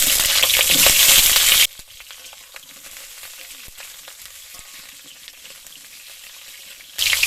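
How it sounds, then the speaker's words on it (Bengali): Washed pointed gourds frying in hot mustard oil in a wok, a loud hissing sizzle at the start that drops to a quiet crackle, then swells again at the end. "গরম কড়ায় দিয়ে দেবো সর্ষের তেল, ধুয়ে রাখা পটলগুলো দিয়ে ভেজে নেব।"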